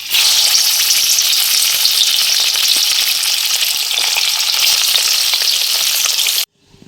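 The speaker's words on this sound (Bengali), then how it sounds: "তেলটা গরম হয়ে গেছে, এবার মাছগুলো ভেজে নিচ্ছি।" Hilsa fish pieces fry in hot mustard oil in a kadai, giving a loud, close, continuous crackling sizzle with faint stirring that cuts out abruptly just before the end.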